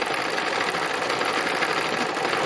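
A sewing machine running continuously while doing free machine embroidery on fabric, a close, steady, rapid mechanical whir and chatter with no pauses.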